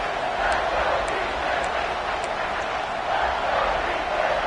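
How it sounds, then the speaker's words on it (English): Loud home crowd at a Clemson vs Texas A&M college football game, a steady roaring wall of stadium noise throughout with a broadcaster talking over it. "Man, this crowd really affecting the football game."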